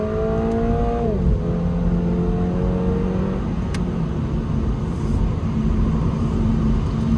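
A 2022 Toyota GR86 accelerates hard from inside the cabin, its engine note climbing through a gear, dropping at a shift near the one-second mark, then pulling steadily again with loud, continuous road rumble and no voices.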